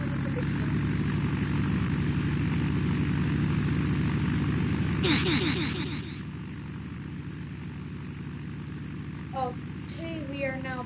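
In the Roblox PTFS flight game, a virtual airliner pushes back with a steady, loud engine drone. The drone drops a little partway through, and short electronic beeps and chirps sound over it.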